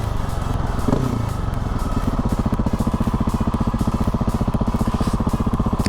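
A KTM 701 motorcycle engine runs at low RPM with a steady, rapid, pulsing thump. It is close, loud and even throughout, with no talk.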